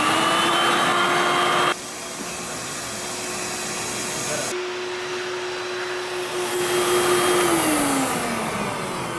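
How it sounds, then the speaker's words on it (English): Several shop vacuums run steadily to pull a semi-in-ground pool liner tight against the walls, a loud continuous whine whose pitch drops and shifts as units switch and the load changes, with no talk over it. "When you have the vacuums running"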